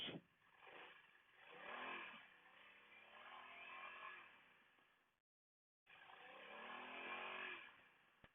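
A BMW F900XR motorcycle engine revving up and settling, close and loud, with rising and falling revs, a short silent gap, then another rev.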